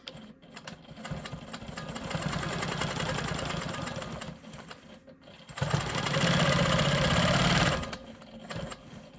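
A sewing machine quilts around a small triangle on a rolling stone quilt block, running in two long, loud, steady stretches with a brief pause between them.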